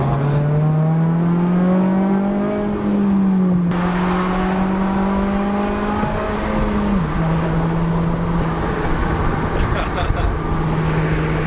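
An eighth-generation Honda Civic Si K20 engine hums steadily at a sustained rev, its pitch rising slowly and dipping a couple of times, loud and close throughout with no talking.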